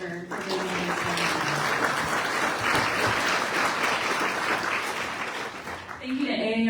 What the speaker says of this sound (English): welcome you to give them a round of applause for giving this.